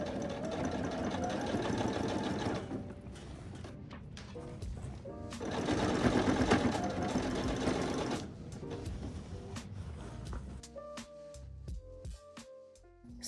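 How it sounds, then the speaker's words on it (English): A sewing machine top stitches a seam on patchwork denim, its needle whirring in fast, steady runs with short pauses, then slowing to a few separate stitches. "I'm just top stitching at that seam"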